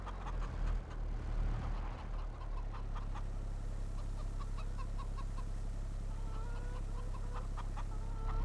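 Clucking chickens in the farming video game Farming Simulator 22, on a French orchard map, with repeated short clucks over a steady low engine-like hum, growing more frequent in the second half.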